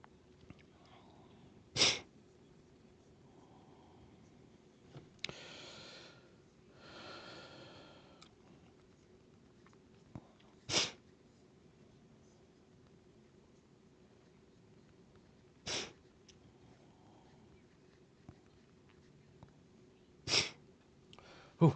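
Sneezes from a man with a cold, four sharp, short bursts spread evenly across a quiet room, close to the microphone, with a couple of softer sniffs or breaths between them.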